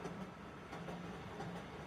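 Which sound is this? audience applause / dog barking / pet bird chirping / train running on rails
train running on rails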